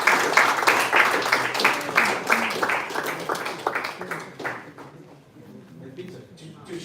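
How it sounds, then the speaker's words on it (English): An audience claps for the winners at a live event. A dense burst of applause starts loud and close, then thins and fades toward quiet after about five seconds. "Give them a big round of applause"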